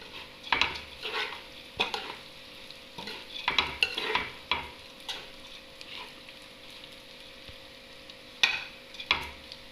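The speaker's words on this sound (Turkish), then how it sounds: "Ondan sonra birazcık kavuruyorum." Mint and spices sautéing in a pot for Turkish lentil soup, with a soft steady sizzle broken by repeated scraping spoon strokes against the pot, close and without talk.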